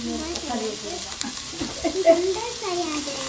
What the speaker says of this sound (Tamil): தக்காளியும் போட்டுடலாம் தக்காளி வதங்க கொஞ்சம் உப்பும் போட்டுடலாம்